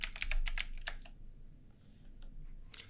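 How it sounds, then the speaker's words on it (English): Quick typing on a computer keyboard, a brisk run of close, crisp keystrokes that pauses and then resumes with a few more taps, with no one speaking. "I'm just gonna type Quixel,"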